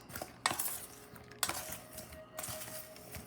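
Baby eggplant being tossed with oil in a bowl, with a few sharp clinks and knocks against the dish over soft wet shuffling, close and fairly quiet, no voices.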